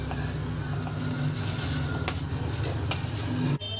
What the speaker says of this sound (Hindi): पानी हमारा उबलने लगा है। अब डाल देंगे तरबूज के छिलके जो हमने बारीक काटे हैं।